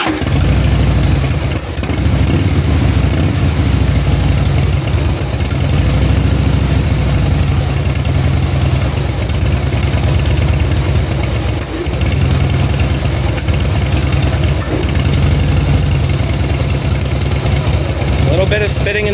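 A 2011 Harley-Davidson Fat Boy Lo V-twin idles loudly and roughly close by after a cold start, with clogged injectors and worn spark plugs. It keeps up a continuous low engine rumble with uneven sputters throughout, and someone talks over it.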